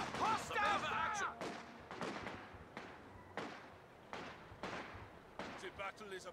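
Sharp gunshot bursts from Company of Heroes 2 crack out in a steady, roughly once-per-second rhythm, fairly close and loud, while a soldier's voice shouts over the opening seconds.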